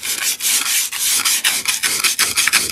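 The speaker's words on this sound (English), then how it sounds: "So we're just sanding back this old-world finishing paint" Old-world finishing paint on wood is sanded back by hand in quick, steady back-and-forth strokes, a loud close rasping scrub with brief pauses between passes and no talking.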